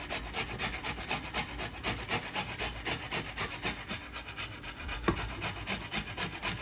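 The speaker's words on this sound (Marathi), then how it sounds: "बीट आणि बटाटे आहेत ना ते किसून घेऊया" Steamed beetroot rubbed across a kitchen grater in quick, even back-and-forth strokes, a rhythmic close-up rasp repeating throughout.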